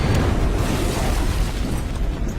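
Explosions from a bomber attack in a Star Wars battle scene, a dense continuous roar of booming blasts and bursts, loud and sustained throughout.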